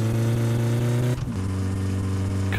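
A car engine in the driving game My Summer Car holds a steady mid-pitched drone, briefly dips as the gear shifts into first, then settles back into a loud, even hum.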